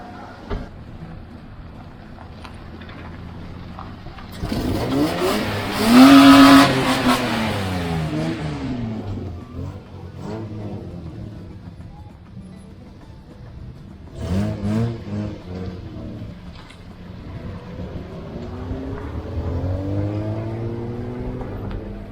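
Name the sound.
stunt car revving and accelerating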